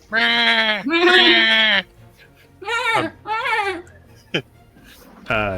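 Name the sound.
person imitating a billy goat bleating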